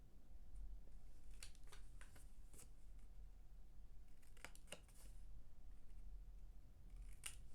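Scissors snip paper at an angle for a homemade secret box, giving a series of short, crisp cuts in uneven bursts against a quiet, hushed background, close by and with no voices.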